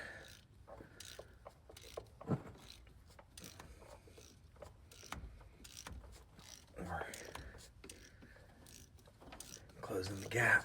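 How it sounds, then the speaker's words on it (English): A wrench ratchets as it pulls a harmonic balancer install tool onto a 2008 Dodge Ram 2500 diesel engine, giving repeated quiet clicking strokes with some creaks and handling noise. "But it's closing that distance with every single pull of the wrench here."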